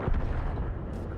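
A tank cannon firing in a video game while playing the XM66F: one heavy, loud, booming blast with a rumbling low-end decay that fills the short moment, with no talking.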